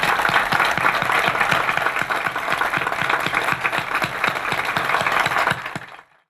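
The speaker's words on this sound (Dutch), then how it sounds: "Mag ik u vragen om samen met mij deze heldhaftige heren een applaus te" A large audience applauds war veterans at a ceremony on Curaçao honoring wartime heroes, a steady dense roll of clapping that runs loud and even for about six seconds before cutting off.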